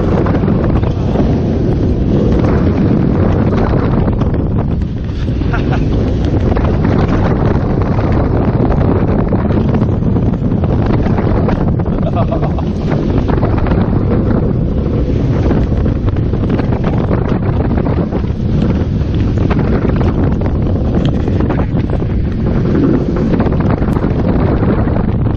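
Heavy, continuous wind roar buffets the microphone on a moving Vekoma roller coaster called Lech at an amusement park in Poland, loud and steady throughout with no breaks.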